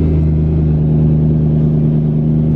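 A car pulls away in fine weather after a cold start, its engine giving a loud, steady low rumble with a slight rise in revs, close by and with no voices.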